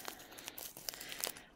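A small package of handmade nail products is torn and unwrapped, giving a brief burst of close, quiet crinkling and tearing plastic or paper.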